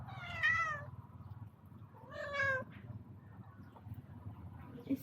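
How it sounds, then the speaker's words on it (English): A male cat from outside gives two strange, wavering meows about two seconds apart, fairly close, over a low background hum with a few faint rustles. "He got very weird sound and it seems like he's looking for a female cat."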